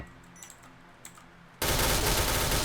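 Video game gunfire: faint scattered clicks and shots early on, then a sudden dense, loud wall of rapid automatic fire that fills the rest of the moment without letup.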